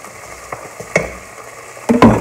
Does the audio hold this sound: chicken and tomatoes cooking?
yes